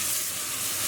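Onions, garlic, freshly grated ginger and chilies sizzle steadily in a hot pan, a close, continuous bright frying hiss with no talking.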